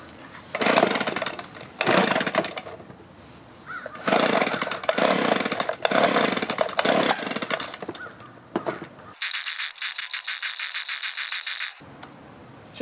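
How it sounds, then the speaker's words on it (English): A 2-stroke trimmer engine is pulled repeatedly to start, with bursts of rattling cranking separated by pauses, then a brief higher-pitched sputtering run near the end. "I'm going to go ahead and proceed and see if I can get her running."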